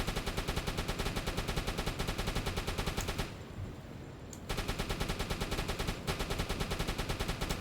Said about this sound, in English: whether I could actually sink him with the deck gun